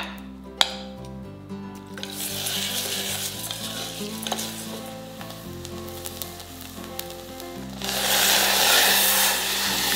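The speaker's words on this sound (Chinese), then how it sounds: "毛绿豆与些许的水倒入锅中炒干炒香" Mung beans are stir-fried dry in a pot, their sizzle rising and falling under scraping stirring strokes, with occasional metallic clinks and a louder burst of frying near the end.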